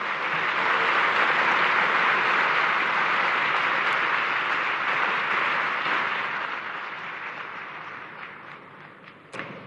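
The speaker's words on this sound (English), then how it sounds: "Let's give them a round of applause." Large audience applauding at a session of the International Olympic Committee in Mumbai, a dense, sustained wash of clapping that gradually fades after about six seconds, with a brief louder clap at the very end.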